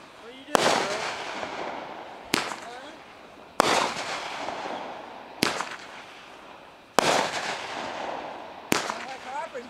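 Fireworks bursting during a July 4th celebration: five sharp, loud explosive cracks spaced a second or two apart, each followed by crackling and rumbling decay, with faint voices in the background.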